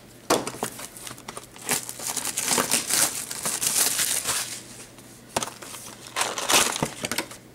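SPX hockey card packs are torn open and unwrapped one after another, giving close, bursty foil crinkling and crumpling with short pauses between handlings and no talk.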